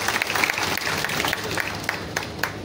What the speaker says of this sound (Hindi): एक बार तालियां बजाएंगे जोर से।